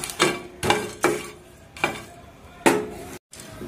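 Curry leaves, broken by hand, are roasted in a hot pan while a bilibele bath spice powder is being prepared. A spoon scrapes and taps the pan in five loud, evenly spaced strokes over a faint background, and no one speaks.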